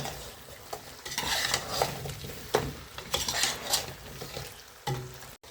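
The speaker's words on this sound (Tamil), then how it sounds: "கருவேப்பிலை போட்டுக்கலாம். போட்டு கிண்டி விட்டுக்கலாம்." A spoon stirs and scrapes turkey neck curry with curry leaves in a pan. Uneven clinks and scrapes sound close over a steady sizzle.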